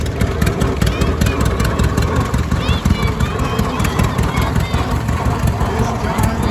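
Vintage John Deere tractor engine running steadily at close range, a loud continuous low rumble with faint voices in the background.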